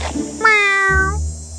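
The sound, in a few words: cat meowing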